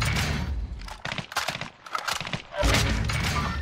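Rapid bursts of gunfire fill a Call of Duty: Warzone match, loud and dense with stuttering volleys, brief lulls, then a heavy sustained barrage at the end.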